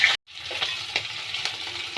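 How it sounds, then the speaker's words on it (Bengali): Hilsa fish head and tail frying in hot oil in a home kitchen give a steady, soft sizzle, briefly cut by a short gap, with faint crackles and stirring over it. "একটু মাথা আর লেজাটা ভালো করে ভেজে নিতে হবে"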